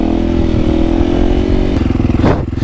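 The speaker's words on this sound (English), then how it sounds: "fuck a rolling burnout" Motorcycle doing a rolling burnout, a loud close engine roar with rapid clattering pulses and tire scrub, ending in a quick rev as the throttle changes.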